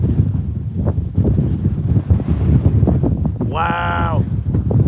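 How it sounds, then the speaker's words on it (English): Strong outflow wind during an Arkansas storm chase, a constant loud low rumble of gusts battering the microphone, with a brief tonal vocal-like sound near the end. "Starting to get really windy."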